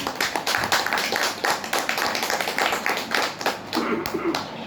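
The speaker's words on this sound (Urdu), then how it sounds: "میں چاہوں گا اپنے خداوند یسوع کے لیے ہم زوردار تالیاں بجائیں" A church congregation claps loudly in praise, a dense, rhythmic burst of many hands striking together, close and sustained, with a faint voice beneath.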